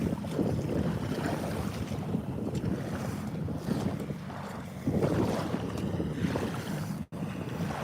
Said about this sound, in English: That is a very loud ski back there.